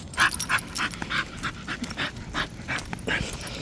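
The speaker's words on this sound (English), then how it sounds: "I don't know if you can hear the dogs panting" Rapid, breathy dog panting close by, several dogs huffing in quick overlapping bursts with no talking.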